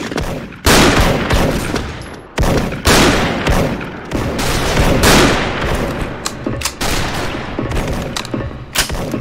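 An M82 Barrett rifle fires in the online shooter Special Force, with loud, heavy single shots spaced a second or two apart, each a sharp booming crack that fades before the next.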